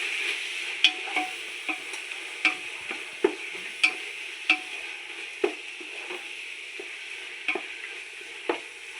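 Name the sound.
stirring tomato, mint and coriander masala for mutton biryani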